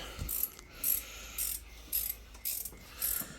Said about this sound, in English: Dad's just nipping up a couple of bottom bolts on this side.